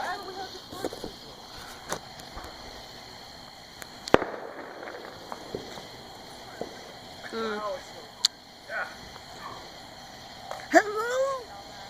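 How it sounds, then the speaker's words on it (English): Fireworks going off outdoors at a backyard display: scattered sharp bangs and crackles, with one loud pop near the middle and whistling, fizzing bursts toward the end, amid faint chatter and steady background hiss. "so this is the last firework."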